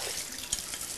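Salted vegetables for Western-style pickles being rinsed in a basin of water, with a steady close splashing and running-water wash and a brief louder slosh midway.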